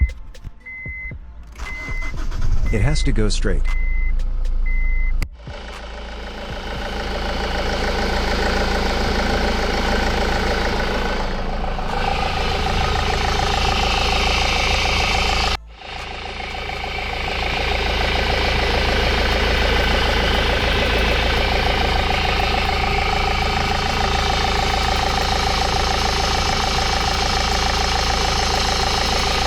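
A Honda Civic (8th/9th generation) engine after a serpentine belt replacement, cranking and catching, then settling into a steady idle hum with brief interruptions, while a voice speaks briefly near the start and reversing-style beeps sound early on.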